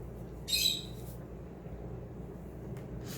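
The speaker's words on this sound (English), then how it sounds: "Sorry about the birds again" A brief bird squawk or chirp from outdoors sounds faintly in the background over a low steady hum, with a second faint call near the end.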